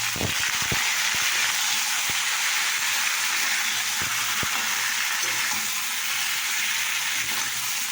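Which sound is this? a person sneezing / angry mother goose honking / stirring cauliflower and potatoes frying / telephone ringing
stirring cauliflower and potatoes frying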